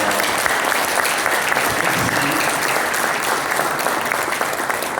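An audience at a graduation ceremony for CFEF students breaks into sustained, vigorous applause, a dense clapping roar that holds steady throughout.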